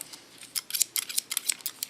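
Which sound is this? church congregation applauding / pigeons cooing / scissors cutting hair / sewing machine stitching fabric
scissors cutting hair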